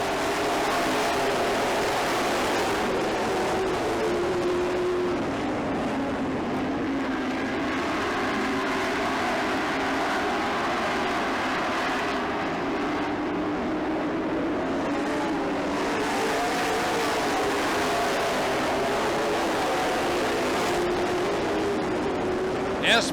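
Race cars roar around a short track just after the green flag, a dense, continuous engine drone with swells as the pack passes, and an announcer talks over it.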